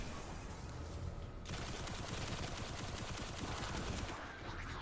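Rapid auto rifle fire in the video game Destiny: a dense, continuous stream of gunshots starting about a second and a half in, fairly faint in the mix, amid other game noise.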